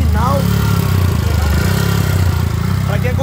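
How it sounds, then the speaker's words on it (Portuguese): A 149cc Pirate motorcycle engine with a 0.50 piston and no flange runs steadily, its loud, dense low rumble holding for about three seconds. "Esse aqui é um motorzão original, original pulsadão."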